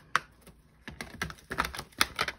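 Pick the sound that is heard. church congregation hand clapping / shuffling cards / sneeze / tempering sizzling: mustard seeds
shuffling cards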